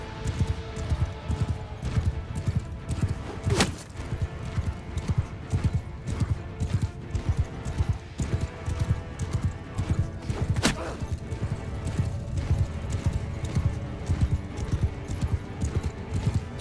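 Horse hooves gallop in the video game Mount & Blade II Bannerlord, a steady rapid clip-clop that runs throughout, with a couple of sharp high clanks over the rhythm.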